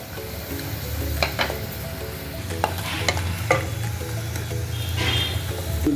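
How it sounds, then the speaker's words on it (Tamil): Asafoetida fries in hot oil in a pan with a steady, soft sizzle, while a utensil stirs and scrapes in several sharp clicks and knocks over a low background hum, with no talking. "உங்களுக்கு சீக்கிரமாக பொரியணும்னா நீங்கள் எண்ணெய்க்குள்ளே போட்டு ஃப்ரை பண்ணிக்கோங்க."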